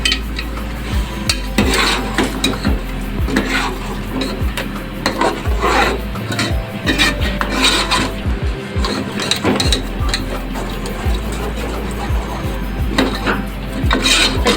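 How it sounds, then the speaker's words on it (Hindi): Blended tomatoes and chicken being sautéed in a pan over a medium flame, rough repeated scraping and rubbing of a utensil against the pan with metallic clinks, close and loud in an uneven rhythm. "अच्छे से इसको टमाटोज़ के साथ हमें भुनाई करनी है।"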